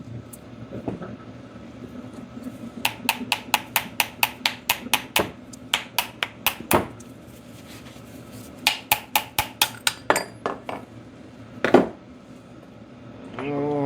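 Old tractor carburetor being taken apart by hand, a quick series of small metallic clicks and clinks in bursts over a quiet workshop background, close and light.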